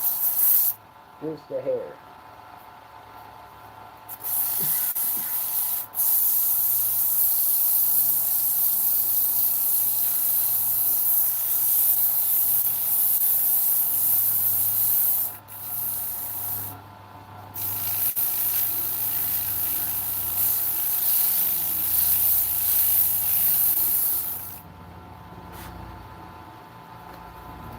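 Hand sanding a wooden workpiece to smooth a slightly proud joint, a steady close scratchy rubbing that runs almost continuously with brief pauses, while a voice speaks briefly.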